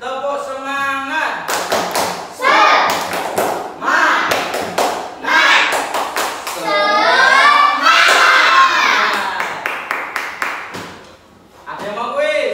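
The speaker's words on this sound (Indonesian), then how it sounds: "Yuk, semuanya tepuk semangat." A classroom of students clapping together in a rhythmic spirit clap, with sharp bursts of claps in patterned groups and loud children's voices shouting and chanting between and over them.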